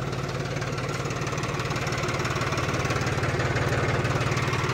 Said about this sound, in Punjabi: ਕੰਪਰੈਸਰ ਜਿੱਦਾਂ ਜਿੱਦਾਂ ਚੱਲਦਾ ਰਹਿੰਦਾ ਹਵਾ ਭਰਦੀ ਰਹਿੰਦੀ ਇਹਦੇ ਵਿੱਚ।